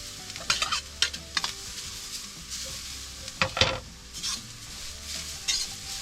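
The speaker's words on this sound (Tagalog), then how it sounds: "Ang gagawin po natin, isasangag lang natin itong niyog." Grated coconut toasting in a pan, a continuous soft sizzle with repeated scraping and stirring strokes of a utensil against the pan, close and moderately loud.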